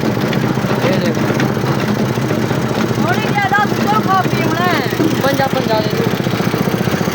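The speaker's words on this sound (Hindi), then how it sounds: "ये जनरेटर है चलती पी है" A generator engine running at a village street-food stall, a loud steady mechanical drone with constant rhythmic throb throughout, while people talk and a voice sings over it.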